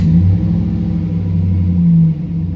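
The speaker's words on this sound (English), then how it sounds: "I'm going to turn the truck off, turn it back on." A Chevrolet Silverado pickup engine rumbles close by with a low, steady note after a throttle position sensor replacement, rising briefly as it revs and then settling back to idle.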